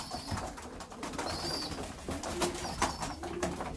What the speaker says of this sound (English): I'm going to get all these little birdies basketed.